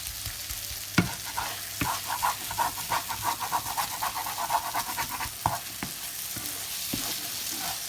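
Mutton roast sizzling on a wide tawa while being stirred, a continuous close frying hiss broken by repeated scraping and clanking strokes of the spatula, with no talking.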